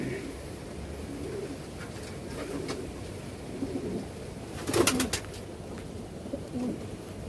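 Young racing pigeons, about two months old, coo softly in a loft, low repeated throaty calls over a constant background hum, with a brief clatter of movement midway.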